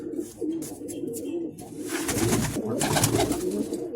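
Pigeons, including a Chinese pigeon, coo softly nearby, low throaty calls repeating over faint background noise.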